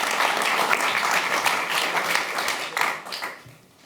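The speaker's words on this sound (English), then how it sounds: "Give them a big hand of applause." Audience applause for an opera director at a talk event, a broad burst of clapping that holds steady and then fades out toward the end.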